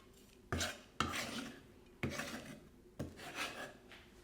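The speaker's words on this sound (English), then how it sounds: "Just going to cut that a little bit finer, just so it spreads across the marinade a little better." A kitchen knife cuts chili more finely on a board for a lemongrass and garlic marinade, giving four separate rasping strokes with short scraping tails, close and clear with no talking.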